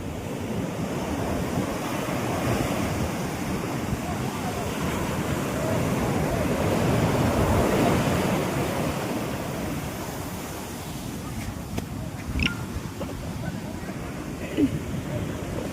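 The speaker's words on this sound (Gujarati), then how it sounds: "પાણીના મોજા બહુ ઉપર ઉઠે છે" Sea waves roll and crash onto the shore in a steady, broad roar of surf mixed with wind rumble, fairly loud and continuous.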